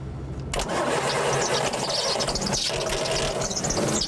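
Beet harvester engine cranks over and catches after a brief quiet start, then roars into a loud, sustained rev with rough, knocking texture, close and steady to the end.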